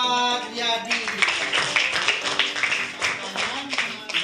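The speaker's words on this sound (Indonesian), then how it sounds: "tepuk tangan dulu buat Yadi" A third-grade class claps for a pupil, a steady burst of many hands in a classroom, close and fairly loud, with voices talking over it.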